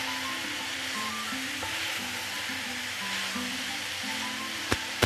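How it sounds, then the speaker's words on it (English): Spinach and peppers sizzle steadily in a hot pan while being stirred, a close, continuous frying hiss with a couple of sharp utensil taps near the end. "Mix it until spinach is wilted."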